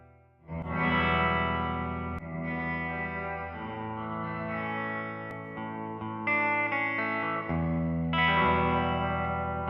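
Electric guitar run through a reverb effect on a DSP simulator, with adjustable reverb time and dry/wet mix, sounding as sustained distorted chords with chorus and lingering echo tails, loud and continuous throughout.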